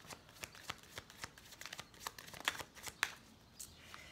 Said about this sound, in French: je vais tirer quelques cartes quand même